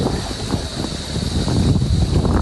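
Steady outdoor wind rushes and buffets against the microphone, a broad airy whoosh that swells slightly louder toward the end, with no voices.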